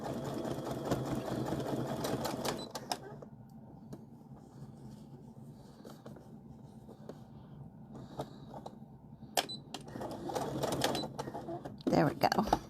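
A sewing machine stitches fabric for a casserole carrier, running in steady mechanical bursts that start and stop, with a quieter pause in the middle, while a person talks nearby.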